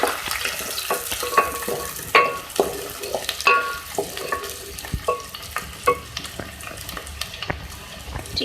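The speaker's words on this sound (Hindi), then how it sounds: "ऑयल में मैं ऐड करूँगी प्याज 2 मीडियम साइज़ की।" Two medium onions fry in hot oil in a pan, a constant sizzle under repeated sharp scrapes and clinks of a spoon stirring against the metal, close and clear.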